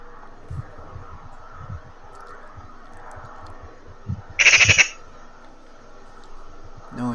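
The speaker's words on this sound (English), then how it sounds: "Noisy old magpie." A magpie gives a brief burst of harsh, rasping chatter, loud and close, standing out from a quiet outdoor backdrop picked up by a trail camera, with faint rustling before it.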